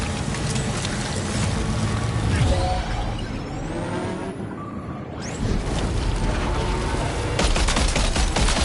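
Gunfire in the video game Death Stranding 2: sustained rapid automatic bursts and scattered shots, loud and dense, with a brief lull midway before the firing resumes at full intensity.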